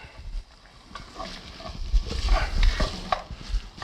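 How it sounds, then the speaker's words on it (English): Chorizo and chopped white onion fry in a pan while being stirred, giving a steady low sizzle under close scraping and shuffling stir strokes. "This chorizo is browning up real well, so I'm going to add about half of maybe a third of a big white onion in there"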